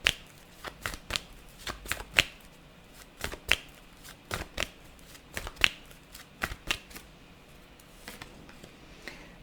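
Oracle cards being shuffled by hand, a run of crisp riffling bursts and slaps in an irregular rhythm, close and moderately loud with no talking.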